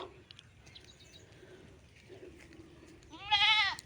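A goat bleats once near the end, a short wavering cry after a few seconds of quiet outdoor background with faint bird sounds.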